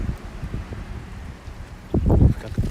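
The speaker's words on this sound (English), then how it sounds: "Wow, it's really windy." Strong wind in Tokyo buffets the microphone with a continuous low rumble and swells into a louder gust toward the end. No voices are heard.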